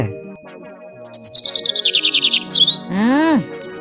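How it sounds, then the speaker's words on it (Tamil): A sparrow chirps noisily in a rapid, insistent run of bright calls, nearby and loud, with a sweeping tone from a children's animated story breaking in near the end. "ஏய் குருவியே உன்னால் அமைதியாக இருக்க முடியாதா சும்மா நச நசன்னு கத்திக்கிட்டே இருக்கா"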